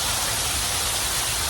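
A water-show fountain at Lumbini Park in Hyderabad splashes in a dense, unbroken hiss much like heavy rain, loud and close with no pauses or voices.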